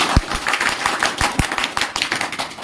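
An audience claps together after a talk, a dense patter of hands with a few sharper close claps standing out, loud and unbroken for the short stretch.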